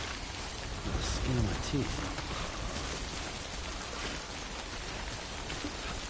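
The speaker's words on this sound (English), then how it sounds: "Figure out how to get out of this rain." Steady rain pours down in the video game Death Stranding, a dense, constant hiss that continues throughout, while someone speaks briefly over it.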